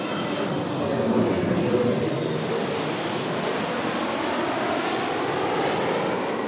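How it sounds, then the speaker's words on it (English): A huge aircraft with big wings passes overhead, its engines roaring as a loud, broad, steady rumble that swells slightly and then holds for several seconds. "A huge aircraft with big wings and roaring engines."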